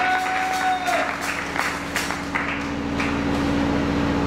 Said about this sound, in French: Acclame un peu pour le Seigneur.